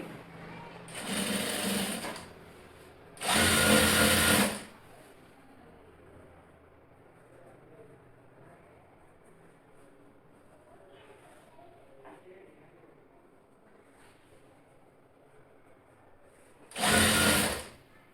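A sewing machine stitching a blouse fitting seam runs in three short loud bursts, two close together near the start and one near the end, separated by quiet room tone.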